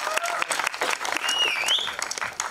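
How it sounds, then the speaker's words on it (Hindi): Applause at a film trailer launch event for a guest introduced on stage, brisk clapping heard alongside a whistle-like tone and some crowd noise. "जोरदार तालियां लेडीज एंड जेंटलमैन इनके लिए"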